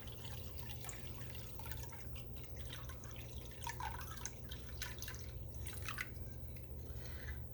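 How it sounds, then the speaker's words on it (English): Cold water being poured for a mandarin orange gelatin salad, a quiet, steady trickle and dripping of liquid over a low hum, with no talking. "another 1/2 of a cup of cold water."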